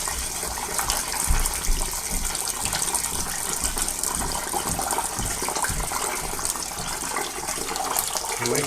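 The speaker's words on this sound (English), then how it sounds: "I'm washing the top of the boiler." Water gushing steadily while washing out the top of a steam boiler, a dense continuous rushing spray with slight clattering, loud and close with no pauses throughout.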